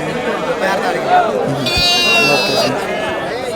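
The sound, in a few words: goats bleating at livestock market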